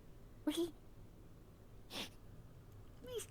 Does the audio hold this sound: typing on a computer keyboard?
no